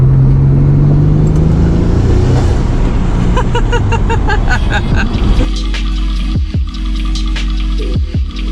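Twin-turbo Nissan 300ZX pulling away under light acceleration, engine rising from a rumble into a revving whine, then easing off into quieter rumbling with some background clatter.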